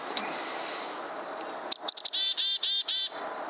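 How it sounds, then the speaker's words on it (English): A chickadee calls close by, with a brief flurry of chirps followed by four clear, evenly spaced high whistled notes over faint background hiss. "Fuck yeah, Chickadee."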